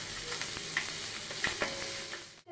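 Chopped onions hit butter in a pan for chicken pasta, setting off a close, bright sizzle with stirring clinks over the short burst before it cuts off.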